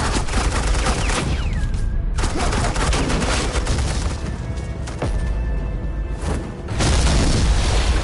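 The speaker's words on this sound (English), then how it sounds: "suppressing fire." Suppressing gunfire in the game Batman: The Enemy Within, loud bursts of rapid shots and booming blasts going on for several seconds, with brief lulls between volleys.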